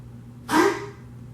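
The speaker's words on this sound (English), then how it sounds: "Excuse the dog choking on something." A single short, harsh gagging cough from a dog choking on something bursts out for about a third of a second over a low steady background hum.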